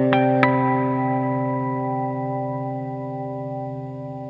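Two plucked electric guitar notes through a pedalboard ring out and sustain into a long, shimmering stereo reverb tail that slowly decays.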